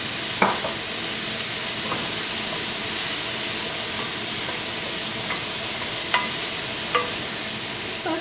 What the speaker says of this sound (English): Sauteing these onions and garlic mixture